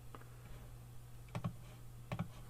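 Two quick pairs of faint computer mouse clicks while editing in Floriani Total Control U embroidery software, spaced about a second apart over a low steady hum.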